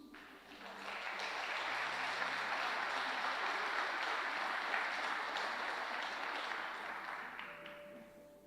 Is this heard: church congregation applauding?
yes